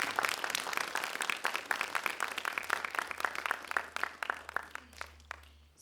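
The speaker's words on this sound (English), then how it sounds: "Let's all give him a big round of applause." Audience applause at a community event: many hands clapping in a dense, even patter, fairly faint and distant, thinning out toward the end.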